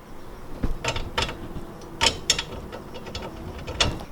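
A ratchet with a 15mm socket tightens a nut on a fog light bracket of a 2016+ Toyota Tacoma, a series of short close clicking bursts with brief gaps between strokes.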